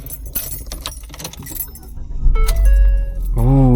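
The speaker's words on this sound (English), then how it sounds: "Now I'm gonna get in and start it up." Keys jingle and rattle close by, then a 2017 Ford Fiesta SE cranks and starts, settling into a loud steady idle with a rising whir.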